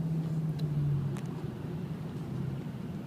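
Steady low rumble of a car driving in light traffic on the approach to the new Bay Bridge in the San Francisco Bay Area, a constant engine and road hum with a faint passing whine, no talking.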